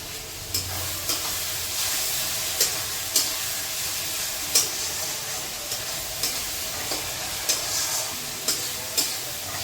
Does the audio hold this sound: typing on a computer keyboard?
no